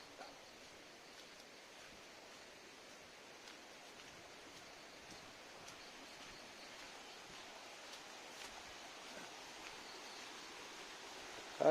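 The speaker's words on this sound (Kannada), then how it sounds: "ನೀರು ಹೋಗ್ತಾ ಶಬ್ದವೇ ಜಡ ಜಳ ಜಳ" Water flows in a faint, steady rush that continues unbroken, with no voices.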